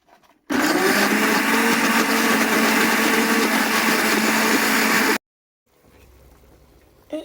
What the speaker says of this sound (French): Je viens les retirer pour les écraser ou les passer au mixeur, c'est-à-dire l'oignon et le piment.